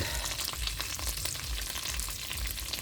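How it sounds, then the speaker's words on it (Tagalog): Dried fish (buwad) frying in a pan, a steady close sizzle and crackle of hot oil running continuously without pause, with no voices over it. "ito lang yung ulam natin ngayon, pritong buwad"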